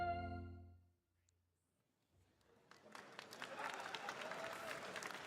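A low tone fades into a brief hush, then a crowd at Summer Game Fest 2024 breaks into steady applause that swells and holds, loud and dense to the end.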